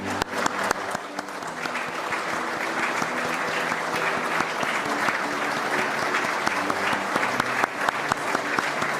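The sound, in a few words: applause at cabinet swearing-in ceremony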